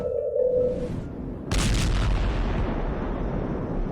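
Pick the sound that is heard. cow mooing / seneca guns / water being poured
seneca guns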